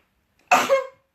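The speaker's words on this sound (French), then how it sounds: "Je crois que je vais éternuer, attention," A single short, sharp sneeze bursts out of near silence, a quick explosive breath that fades within half a second.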